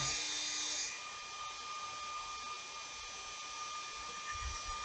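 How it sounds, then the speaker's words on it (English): A steady electric whir with a thin high tone runs throughout, a hair dryer blowing nearby in a woodturning shop to dry a finish drop on a Christmas ornament, slightly louder at first and then settling. "it's handy to have a hairdryer in your shop"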